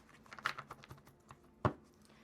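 Tarot cards being shuffled by hand, a soft riffle of clicking card edges followed by a single sharper slap as the deck is squared, close and fairly quiet.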